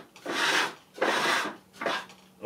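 A part is unscrewed and pulled off a solar-powered grain mill, giving three close, raspy scraping bursts of about half a second each with short pauses between them and no talk.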